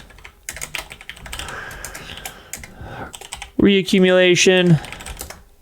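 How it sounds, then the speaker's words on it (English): Rapid, uneven clicking of fingers typing on a computer keyboard runs for several seconds at close range, then a voice speaks briefly over quieter background. "And I'll type that here for you guys."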